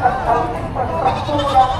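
Wavering goat bleats repeat over a noisy background, close and fairly loud, with voices around them.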